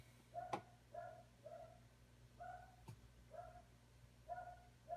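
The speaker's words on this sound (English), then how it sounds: "Pardon the dog barking if you can hear that." Faint, distant dog barks repeat in short bursts every second or so over a quiet background hum, with no other voices.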